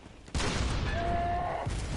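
Cannon fire in the video game Bloodborne: a sudden loud blast followed by a sustained roaring burst of booming fire and ringing tones, lasting over a second before cutting off, with no talk over it.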